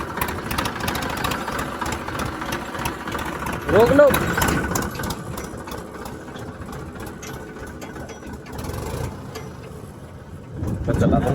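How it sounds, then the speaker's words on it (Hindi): A farm tractor's engine idles with a steady, close mechanical chug, rising briefly partway through. Voices talk over it. "अब मैं चलाऊंगा ट्रैक्टर को।"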